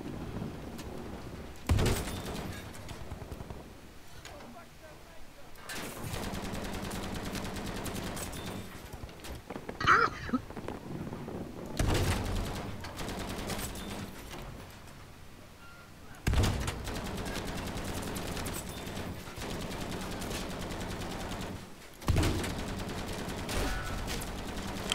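Gunfire strikes a 2K60 medium tank in a tank video game, arriving as sharp loud bursts and rattling volleys every few seconds, with quieter engine and battle rumble between the hits.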